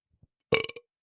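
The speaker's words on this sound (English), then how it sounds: "sorry about burping." A single close, loud burp from a person, preceded by faint throat sounds, a short guttural croak lasting about a third of a second before silence.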